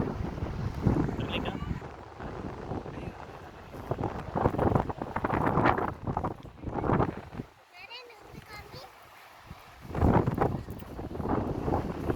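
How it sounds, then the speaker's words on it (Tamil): Gusts of beach wind at Kovalam buffet the microphone in loud, uneven waves, easing briefly before surging again, with a voice talking at times. "சூப்பராக காத்தடிங்க."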